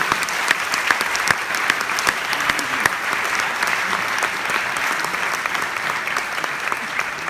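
A French audience applauds during a live event about reinventing the town centre, loud sustained clapping with crisp individual claps popping out of the steady wash.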